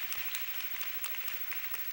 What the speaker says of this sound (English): let's give them a hand. I'm giving you an applause today.